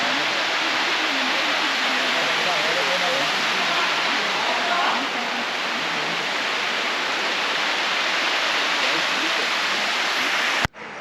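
Water pours over the spillway of Chiklihole reservoir in Coorg after heavy rain, a loud, steady, broadband roar that holds constant close by until a sudden cutoff at the end.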